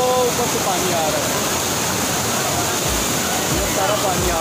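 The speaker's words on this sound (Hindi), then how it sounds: "ये सारा पानी आ रहा है ऊपर से।" Heavy water pouring down at a mountain waterfall, a loud, steady roaring rush that stays constant throughout with nearby low thumps and spatter.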